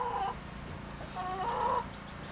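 Backyard hens cluck and murmur near baby chicks, a few short, close clucking calls over a steady low background, no talking.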